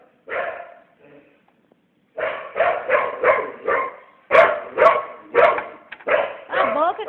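A female dog barks close by, starting with one sharp bark, then after a pause firing off a quick run of loud, repeated barks that last to the end.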